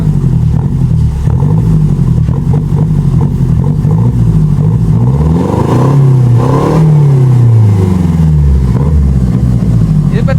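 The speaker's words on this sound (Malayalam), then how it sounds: "നമുക്ക് ഇതിന്റെ എക്സോസ്റ്റ് നോട്ട് കേൾക്കാം" A Hyundai i20 diesel with a full-system exhaust is held and revved up to about 3000 RPM, giving a loud, close, droning note that rises and falls, with people talking over it.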